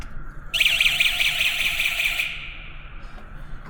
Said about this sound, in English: so just ignore the alarm